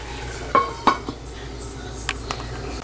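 Masi sambol, a mixture with dry tuna fish, cooks in a pan as a spoon clinks and scrapes against it a few times over a faint background sizzle.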